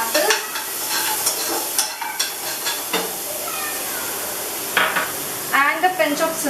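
Finely chopped peeled apple cubes fry in butter in a pan, a steady close sizzle broken by stirring scrapes and light clatter from start to finish.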